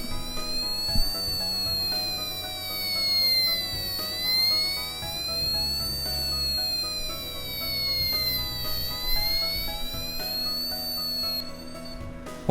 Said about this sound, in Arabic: وهيك بهالطريقة قدرنا نحصل على صوت الحالة الرنين تبع سيارة الشرطة